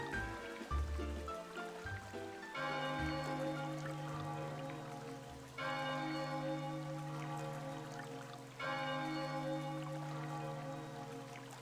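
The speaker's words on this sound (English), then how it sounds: "Sounds like a bell ringing." The bell of oblivion tolls in the video game Chocobo's Mystery Dungeon, struck three times about three seconds apart. Each strike is a rich, ringing tone that hangs and slowly fades, after some softer game sounds at the start.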